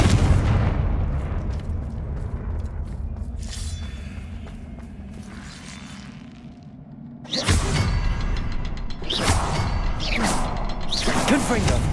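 Magical Confringo blasting spell from Hogwarts Legacy: a low booming blast with a rumbling tail fading over several seconds, then a loud burst of sharp explosive crashes and debris, with speech-like game chatter around it.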